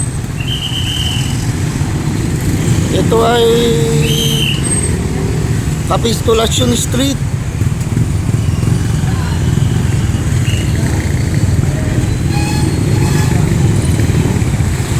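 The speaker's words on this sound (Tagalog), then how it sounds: "Heavy traffic ngayon dito sa ano, Banquet." Dense street traffic in Bangued, Abra, with a steady rumble of idling and passing cars and motorcycles, a few horn toots and engine revs, while someone talks over it close by.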